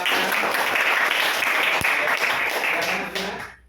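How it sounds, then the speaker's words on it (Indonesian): A room full of people applauds steadily for a few seconds, a dense wash of clapping that fades out at the end. "Tepuk tangan untuk kita semua."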